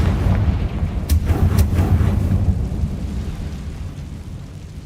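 In the game Hogwarts Legacy, casting the Confringo spell sets off a deep rumbling blast with a couple of sharp crackles early on, then fades away over a few seconds.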